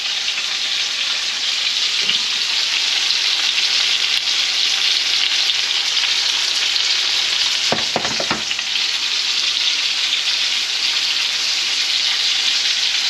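Fish pan-frying on lowered heat gives a continuous, even sizzle, close and steady, with a brief clatter of a utensil midway and no talk.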